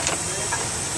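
Steady broadband hiss of steam escaping from an 1895 Frick steam engine at a running show, continuous and fairly close, with people talking faintly nearby.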